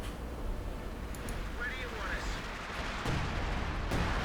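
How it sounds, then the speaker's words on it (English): Scavenger artillery fire in Company of Heroes 2 booms amid steady battle noise, with a heavier burst near the end, while a commentator keeps talking over it. "do have another set of Scavenger artillery coming in"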